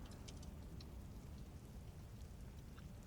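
Steady rain patters on the surface around a Cessna Citation CJ4 parked in Microsoft Flight Simulator 2024, a dense continuous hiss with scattered droplet ticks, loud and close throughout with no talk.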